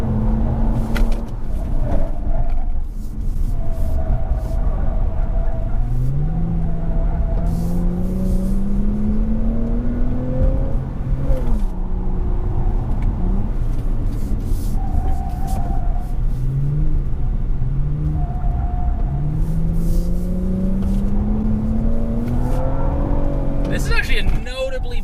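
A 2020 Toyota Camry TRD accelerates while driving, its engine note rising in pitch through a held lower gear, dropping after a shift, then climbing again, a steady loud cabin rumble throughout.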